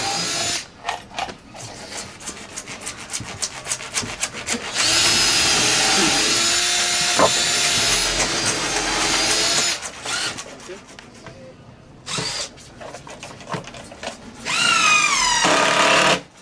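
A power drill whirs in bursts, spinning up and stopping repeatedly at close range, with people talking between the runs.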